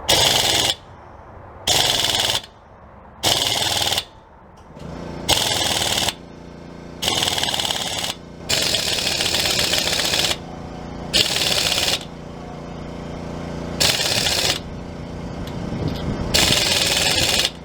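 A Harbor Freight 3/8 in air impact wrench set to 65 foot-pounds hammers at a bolt in repeated loud, rattling bursts of about a second each, separated by short pauses, close and continuous over the whole stretch.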